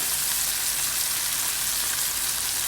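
Small shallots sautéing in coconut oil in a pan, with a steady, dense sizzle and frying crackle that stays even throughout, with no voices.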